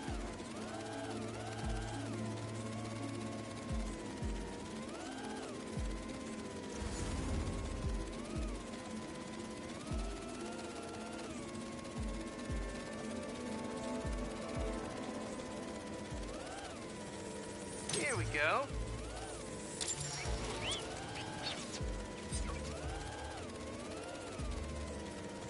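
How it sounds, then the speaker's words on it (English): A video-game drone whines in a high, wavering buzz like a dentist's drill, holding a sustained tone that dips and rises, with a brief sharper burst near the end. "This sounds like the dentist drill."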